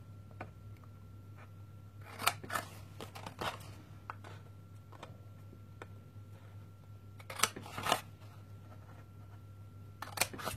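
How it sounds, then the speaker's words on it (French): Scissors snip through white paper while small Christmas baskets are being made, giving a few quiet, crisp cuts in short clusters over a steady low hum, with pauses between them. "On va découper cette ligne-là."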